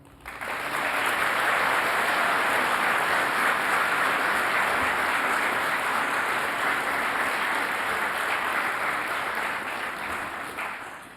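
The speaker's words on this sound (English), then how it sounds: "please join me in giving a round of applause to the staff of the National Museum of the American Indian" Sustained audience applause at a Smithsonian Folklife Festival welcome ceremony honoring museum staff, a dense, steady wash of clapping from a large crowd that swells in quickly and holds for about ten seconds before tapering slightly.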